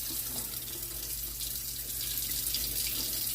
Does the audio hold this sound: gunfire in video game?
no